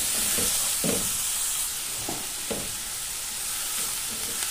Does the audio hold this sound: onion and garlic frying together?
yes